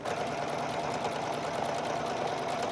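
A sewing machine runs steadily while stitching a zipper onto a bag or purse, giving a continuous even whir with no pauses.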